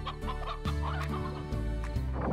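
Chickens cluck in the video game Slime Rancher, a close run of short repeated clucks over a steady ambient game backdrop, with no talking.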